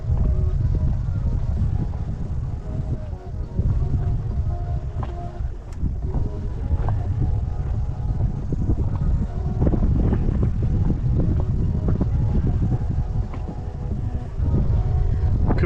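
Strong wind on Quail Island, Christchurch, buffets the microphone with loud, continuous low rumbling and gusts that swell and ease.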